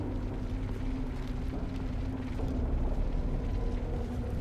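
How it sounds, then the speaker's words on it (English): A faint, steady mechanical whir hums in Halo 3, a sustained droning tone over low rumbling and scattered ratcheting clicks. "Some kind of whirring noise."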